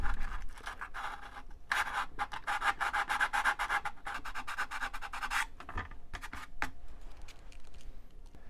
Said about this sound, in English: I like to get a little piece of fine sandpaper like this, roll it up, and then just kind of work it.